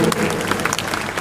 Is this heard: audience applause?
yes